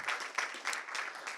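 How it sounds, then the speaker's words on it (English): An audience applauds the judges at a programming competition event, a fairly steady patter of clapping from a crowd at moderate distance, lasting about a second and a half. "So also a round of applause to our judges"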